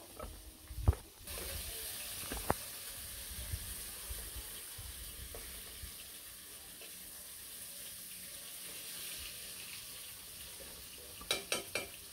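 Steady sizzling of food frying in a pan runs for about ten seconds, with a few sharp clinks near the start and end.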